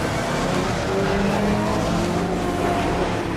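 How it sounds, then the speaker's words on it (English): A dense roar of racing car engines, loud and sustained, with overlapping motor tones as several cars pull away together from a rolling start in a Britcar 24-hour race at Silverstone. "The Britcar race gets underway with a rolling start."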